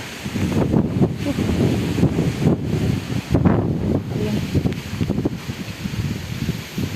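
Storm wind gusts through coconut trees, fronds thrashing and rustling loudly in surging waves with no talking, in a village in the Khulna region.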